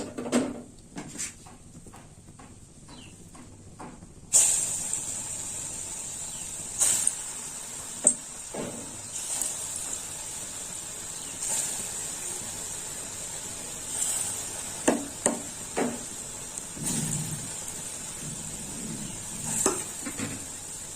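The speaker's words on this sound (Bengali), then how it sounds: "বাকিগুলো ভেজে নেবো" Fritters (bora) fry in oil in a pan with a steady high hiss. Occasional soft clinks and scrapes from a utensil come and go over the constant sizzle, and there is no talk.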